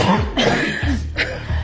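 Several short coughs and throat-clearing bursts from a person in a dramatic scene, rough and close, coming in quick uneven fits with brief pauses between them.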